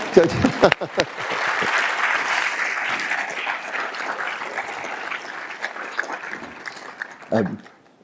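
An audience applauds at a Q&A with the president at the Yale School of Management, with sustained, fairly loud clapping that swells and then slowly tapers over several seconds, and voices speak briefly at the start and near the end.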